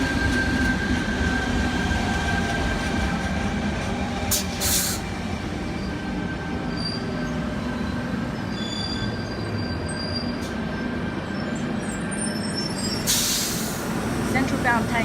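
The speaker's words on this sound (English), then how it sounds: "We should have a Tangara approaching platform 2." Sydney Tangara electric train, set T91 leading, at Doonside station platform 2 on a Central service, a steady loud rumble of wheels and motors with faint squeals and a brief high hiss, close by.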